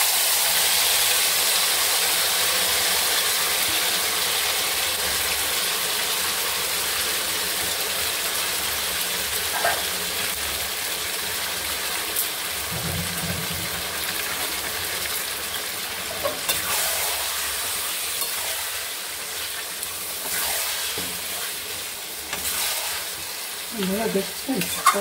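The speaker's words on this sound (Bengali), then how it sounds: "মাংস ঢেলে দিচ্ছি" Marinated country mutton poured into a pan of fragrant fried spices sizzles loudly and continuously, a dense frying hiss with faint crackles and occasional clatter from the pan, no talking over it.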